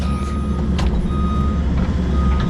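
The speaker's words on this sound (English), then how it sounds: "So the truck's back." A truck reverses at a soil remediation job site, its backup alarm beeping steadily and loudly over a constant diesel engine rumble, with no voices.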